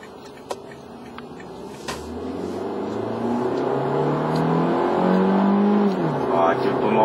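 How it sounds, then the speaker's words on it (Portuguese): A 2009 Toyota Corolla XEI 1.8 with automatic transmission drives on asphalt, its engine droning and rising in revs, then dropping as the gearbox shifts, with faint talk over the cabin noise. "Vocês podem ver que ele cai a rotação bastante quando ele troca de marcha"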